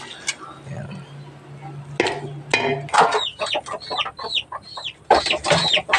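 Chickens eating fruit and vegetable scraps and black soldier fly larvae, with a quick run of short clucks and high peeps mixed with light tapping and knocks at moderate distance.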